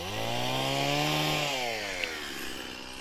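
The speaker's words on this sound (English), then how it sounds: "he's just here with his chainsaw cutting down a branch and cutting it up" Chainsaw cutting a casuarina branch, close and loud, its engine whining and bogging down in pitch as it bites through the wood before easing off.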